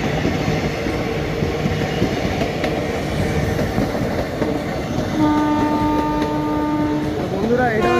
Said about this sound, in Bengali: এটা হচ্ছে হাজারদুয়ারি এক্সপ্রেস, যেটা কলকাতা স্টেশন থেকে ছেড়ে আসছে